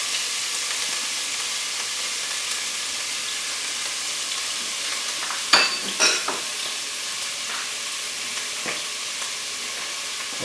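Chopped onions and garlic frying in a pan for homemade marinara sauce, stirred with a wooden spatula: a steady soft sizzle throughout, broken by a few brief scraping stirs near the middle and end.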